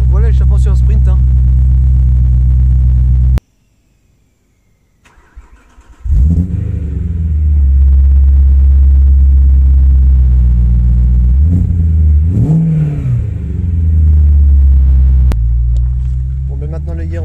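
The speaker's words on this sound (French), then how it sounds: "Vous l'entendez, le bruit rauque derrière. Donc voilà l'échappement sur un sprint hein." A BMW M3 E92 engine drops out, then fires back up and roars into a loud, deep exhaust rumble during a sprint, with revs rising and falling, close and dominant, while someone talks over it.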